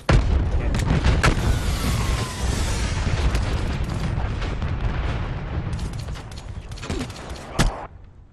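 Heavy gunshots and booming blasts in Call of Duty Black Ops 3 multiplayer, a sharp burst at the start, then sustained rumbling fire with a few distinct cracks near the end.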